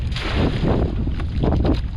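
Monsoon wind buffets the microphone in heavy, rumbling gusts, a dense low roar that swells and fades without any voices, in Bulan, Sorsogon.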